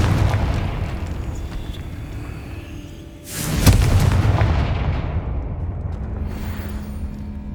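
A Confringo blasting spell explodes in the Hogwarts Legacy game, a single loud booming burst midway that rolls off into a fading rumble over steady low background ambience.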